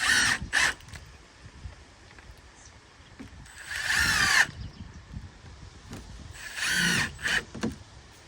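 A cordless power drill drives screws into rotten wooden boards of an outdoor pig pen, three separate whirring bursts of rising pitch, close and loud, with quiet outdoor background between them.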